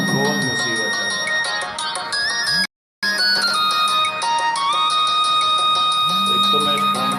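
A mobile phone ringtone plays as a steady melodic tone through most of the passage, with a brief silent gap partway through, heard loud and clear under someone speaking in the foreground.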